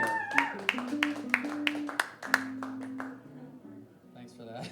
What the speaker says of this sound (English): Thanks to some of you who put your drinks down to clap for that